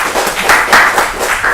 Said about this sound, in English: a big thanks and claps goes to the Professor Great Sanjeev Biswas